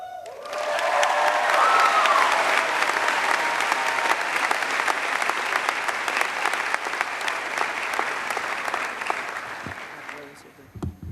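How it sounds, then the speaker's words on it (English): A graduation audience at a 2014 high school ceremony breaks into sustained, dense applause that starts after a moment, holds steady and loud for about nine seconds, then tapers off, with scattered cheers mixed in. "Let's give another round of applause for Brooke Copeland and Dustin Maynard right there."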